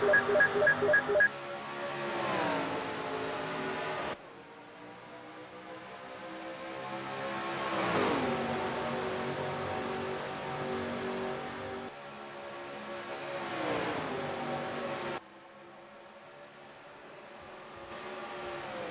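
Simulated race car engines from NASCAR Racing 2003 roar at a restart, with repeated rising and falling revving sweeps as cars accelerate and shift, fairly faint and continuous.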